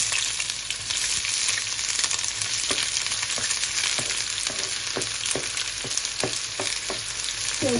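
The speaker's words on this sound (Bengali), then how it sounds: "আমার তেলটা গরম হয়ে গেছে পেঁয়াজটা দিয়ে নিই" Onions frying in hot oil give a steady, loud sizzle throughout, with soft stirring scrapes and light taps from a utensil scattered across it and no voices.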